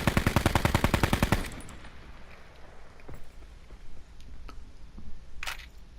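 A rapid burst of automatic gunfire in Call of Duty Blackout, about a dozen loud, evenly spaced shots over the first second and a half. Quieter game ambience and a few scattered thuds and clicks follow.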